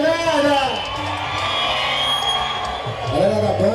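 Dense crowd at the Micareta de Feira de Santana street carnival in Brazil cheering, whooping and shouting together, a loud continuous roar that swells at the start and end, with a voice shouting over it.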